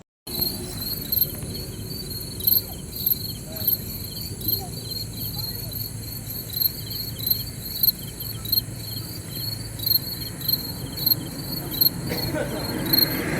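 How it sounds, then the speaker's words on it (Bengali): Crickets in rural Bankura shrill continuously and fairly loud on a warm night, a dense steady chorus with faint pulsing and a low background rumble, no voices. "এই ঝিঁঝি পোকার আওয়াজটা শুনে সে ছোটোবেলার কথা মনে পড়ছে।"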